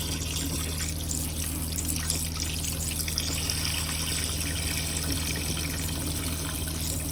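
Steady water pours from a Roadtrek Simplicity RV kitchen faucet in a continuous, even stream, with the low mechanical hum of the water pump underneath.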